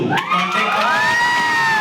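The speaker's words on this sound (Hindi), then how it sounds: "जोरदार तालियों के साथ स्वागत करेंगे।" A crowd at a lottery prize event in India bursts into loud, close cheering, with high shouts and whoops packed into a short, dense outburst.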